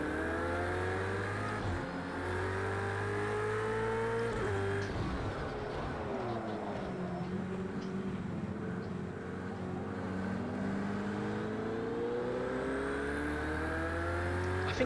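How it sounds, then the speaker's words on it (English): A turbocharged race car in Project Cars 2 runs steadily, its engine pitch rising and dropping through gear changes with a deep turbo whir throughout, fairly quiet and continuous, with no talk. "Just the whir of that turbo there, proper deep, powerful whir to that turbo."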